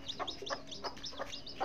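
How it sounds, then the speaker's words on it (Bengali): Newly hatched chicken chicks peep in quick, high chirps, several overlapping in a rapid irregular run, faint and close with nothing else over them. "মুরগির বাচ্চা ফুটেছে"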